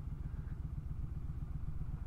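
Honda Fury 1300cc motorcycle engine running steadily while riding and lane-splitting in traffic, a continuous close low rumble with an even throbbing pulse and no talk over it.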